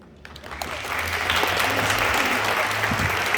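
Audience applause at a career fair event, starting with a few scattered claps and swelling into steady, full clapping that carries on to the end.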